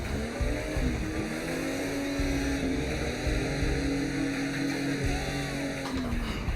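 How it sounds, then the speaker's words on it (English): A drift car engine revs with the clutch in, the pitch rising and falling repeatedly, steady and fairly loud in the cabin with a constant drone underneath. "I'm just having to clutch in and rev behind him, not even have any forward bite"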